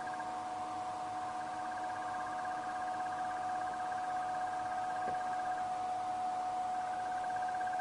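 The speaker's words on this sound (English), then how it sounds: "the crested barbet just behind us" A crested barbet calls at dawn in South African bush with a long, sustained trilling note, moderately near, over quiet ambient background.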